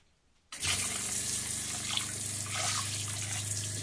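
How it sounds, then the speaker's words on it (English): A sink sprayer fitted in a motorhome bathroom bursts on after a moment of quiet and sends a steady, close hissing spray of water into the toilet bowl. "The sprayer is a handy addition for cleaning a messy bowl"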